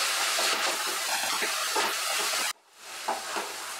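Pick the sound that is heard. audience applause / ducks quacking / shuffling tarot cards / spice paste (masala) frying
spice paste (masala) frying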